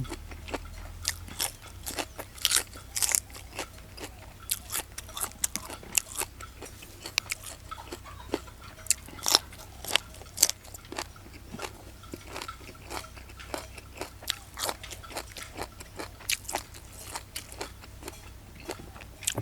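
Close, crisp crunching and chewing of spicy pounded jellyfish salad, with many sharp bites and crackles in an irregular rhythm over a quiet outdoor background.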